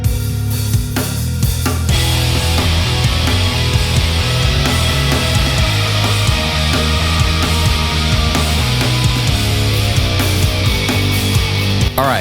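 Rock track, played continuously at a loud, dense level with heavy distorted guitars, bass and drums filling the whole stretch without a break.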